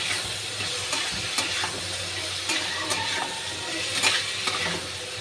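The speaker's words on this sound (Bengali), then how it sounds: "এবার আমি আলুটা দিয়ে দেবো, দিয়ে একটু হালকা ভেজে নেব।" Potatoes frying lightly in a pan, a steady soft sizzle with occasional stirring scrapes and clinks layered over it.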